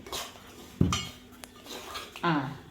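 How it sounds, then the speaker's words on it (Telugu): Semolina roasting in a pan is stirred with a metal spoon, giving a few quick clinks and scrapes against the pan in short separate bursts, close and fairly clear. "ఇలా రవ్వ అనేది వేపుకోవాలి రవ్వ అనేది ఇలా వేపుకోవాలి"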